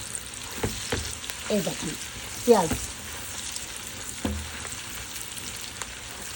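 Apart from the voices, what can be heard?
onions and potatoes frying together in a pan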